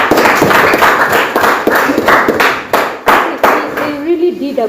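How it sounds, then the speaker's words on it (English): A classroom of students claps for classmates, a loose run of close, uneven hand claps with thumps, fading toward the end as a voice begins speaking. "Clap for them."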